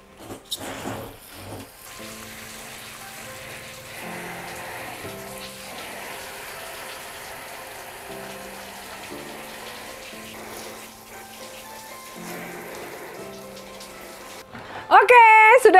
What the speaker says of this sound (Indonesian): Lalu ini kita tinggal siram ya guys